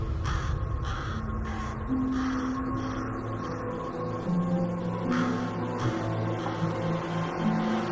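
A crow caws repeatedly, harsh calls spaced across the clip against a steady low rumble of background noise.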